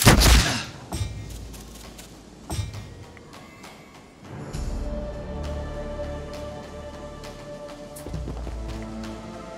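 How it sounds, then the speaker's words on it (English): Volleys of gunfire from enemy troops armed with guns in the fantasy strategy game Songs of Conquest, a sharp burst of shots at the start followed by scattered cracks over game music, with no talking. "Oh, they have guns!"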